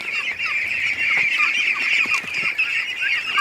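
A crowd of ducklings peeps as they are let out of their pen in the morning. Continuous shrill, overlapping peeps come from close by, with no talking.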